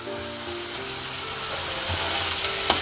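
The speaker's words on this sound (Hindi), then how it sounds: "मसाला मेरा फ्राई हो चुके हैं, आप देख सकते हो साइडों में ऑयल निकल आया" Masala sizzles in hot oil for a chicken curry, a close, even crackle holding steady for a few seconds with a small pop near the end.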